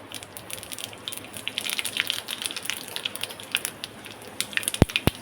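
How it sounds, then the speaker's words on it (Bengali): Mustard seeds hitting hot oil for a homemade samosa filling crackle in a dense, continuous fizz of tiny pops, with a couple of sharp louder knocks near the end. "তেলটা দিয়ে দিলাম। প্রথম দিয়ে দেবো সর্ষে"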